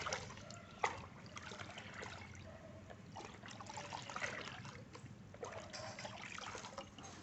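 Seven-water compost liquid is stirred in a bucket, giving soft, continuous sloshing and trickling with a few small knocks, close and fairly quiet, with no talk.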